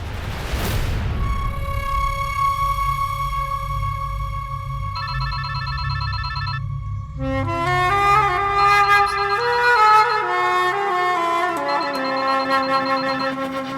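A telephone rings on a call: a steady electronic ringtone with a sustained tone, then a brighter melodic tune playing loud and continuous over a low hum.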